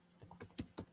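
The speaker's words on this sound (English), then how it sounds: "I'm going to type in Canvas Workspace" Fingers typing on a computer keyboard, five or six distinct key clicks in quick, uneven succession, close and quiet with no talking.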